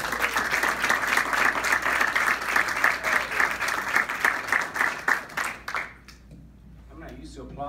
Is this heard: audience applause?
yes